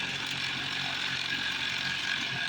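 A homemade go-kart hub motor run at full power on 80 volts gives a steady, close mechanical whir with a fine ratcheting, gear-like rattle that never lets up.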